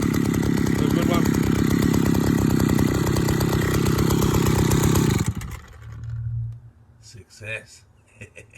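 A repaired Stihl-style 041 chainsaw roars at a loud, steady, buzzing run for about five seconds, then cuts off abruptly, leaving a short low rumble and a few faint clunks.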